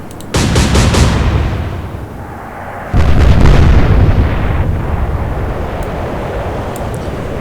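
Naval gun salvos boom in the naval warfare game Atlantic Fleet, two loud heavy blasts a few seconds apart, each trailing off into a long rumbling roar.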